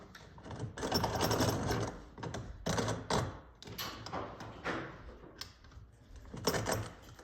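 Coffee beans for pour-over are ground in bursts of gritty, crunching grinding, several uneven rattling passes close by with short pauses between them.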